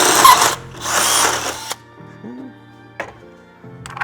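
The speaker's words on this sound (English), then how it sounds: "going in for this 3rd hole, straight up and down with our drill bit and drill" A power drill whirs loudly in two bursts of about a second each, drilling a bolt hole in a 2019+ Mercedes Sprinter van, then stops; a few faint clicks and a soft thump follow in the quiet.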